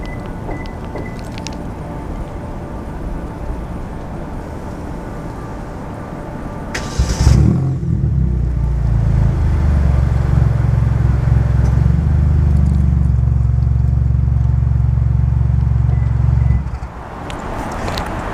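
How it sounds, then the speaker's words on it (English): A 2017 Hyundai Elantra Limited starts remotely, heard from behind the car: a sharp crank burst gives way to a steady, fairly loud low idle that holds for about ten seconds, then cuts off. "I'll do a remote start for you guys so you can hear it from the back."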